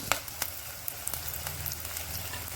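Curry leaves and green chillies added with onion to hot oil in a home kitchen, a moderate sizzle with sharp crackles and pops scattered over a continuous frying hiss.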